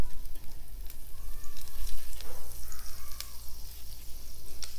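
Butter sizzles steadily in a hot pan beside bread spread with red chutney, a continuous close crackling hiss with small pops and no talk.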